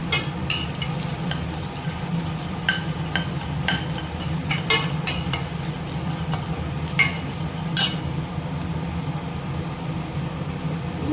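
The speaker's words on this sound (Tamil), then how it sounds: "தேங்காயும் போட்டு லைட்டாக வறுத்துக்கலாம்." Grated coconut is stirred and lightly roasted in a pan, with a soft background sizzle and intermittent scraping clicks of the spoon against the pan.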